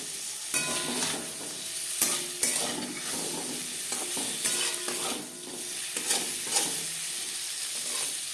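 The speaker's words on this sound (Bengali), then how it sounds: "পনির হালকা করে ভাজা হয়ে গেছে একটা পাত্রে উঠিয়ে নেব" Paneer cubes fry lightly in a pan for matar paneer, a soft sizzle broken by repeated scraping stirs of a spatula against the pan, close and moderately loud, no talking.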